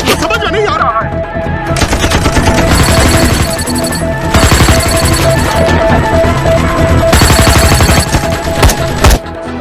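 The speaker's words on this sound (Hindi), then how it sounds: "हम तो फायरिंग कर रहे हैं सर।" Dense automatic and machine-gun fire in an action film scene, sustained bursts crackling loudly and continuously over a thick music and effects bed, with voices faintly underneath.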